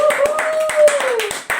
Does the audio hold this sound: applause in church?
yes